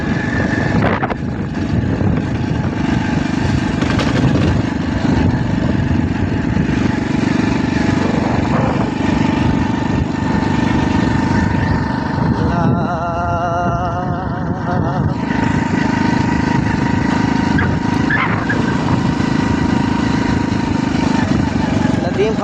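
A motorcycle engine runs steadily underneath, a constant droning hum with faint tonal whine, while people talk over it almost the whole time.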